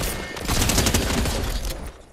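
Dense, rapid gunfire from a special weapon in the video game Fortnite, loud and continuous bursts over about two seconds, with no clear talk over it.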